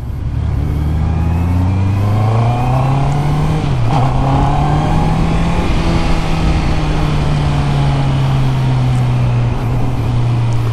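A 2024 Honda CB650R E-Clutch motorcycle engine drones steadily and loud under heavy wind rush on a test ride, its pitch rising and settling as it shifts gears without a clutch lever.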